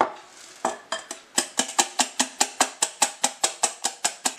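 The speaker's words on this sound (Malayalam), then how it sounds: "ഇനി നമുക്കിതിലേക്ക് കുറേശ്ശെ ഓരോ മുട്ടയുടെ ഉണ്ണിയും മഞ്ഞയും ഇട്ടിട്ട് ഒന്ന് ബീറ്റ് ചെയ്തെടുക്കാം." Eggs beaten by hand into butterscotch cake batter in a bowl, a fast steady run of sharp utensil clicks against the bowl, close and loud with no voices.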